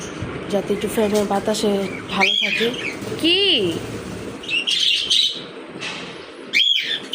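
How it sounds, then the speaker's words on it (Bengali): Pet parrots kept indoors in a room with a fan give repeated chirps, squawks and swooping whistled calls close by, mostly under and between a person talking. "আর আমার পাখিগুলো ডাকতেছে ভালোই।"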